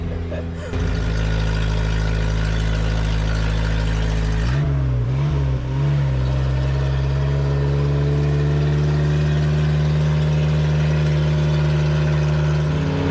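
A blue car's engine runs loud and close throughout, a steady rumble that briefly dips and surges midway before settling back into an even drone.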